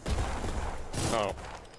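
Gunfire in the Armored Core mech game, a dense burst of rapid shots with a sharper crackling volley near the end, loud and steady under faint talk.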